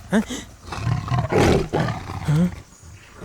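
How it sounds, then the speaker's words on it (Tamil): A tiger roars in a forest, loud bursts breaking through over several seconds while people talk nearby in a tense Tamil thriller scene. "யோ, புலிப்பா."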